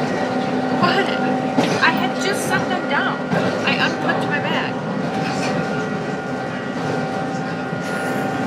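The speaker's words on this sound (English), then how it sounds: "This is our train." A passenger train in Slovakia's Tatra Mountains rumbles steadily throughout at close range, with rail clatter and a low continuous drone beneath people talking.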